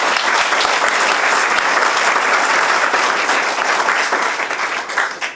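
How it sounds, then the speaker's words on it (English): Loud, dense applause from an audience cheering young playwrights at a play reading, sustained at full strength before tapering slightly at the end. "Let's all applaud for them."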